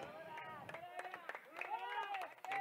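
Spectators clapping at a panchayat-level cricket tournament match, scattered handclaps rising from a crowd amid steady background chatter and babble, fairly distant and moderate in loudness.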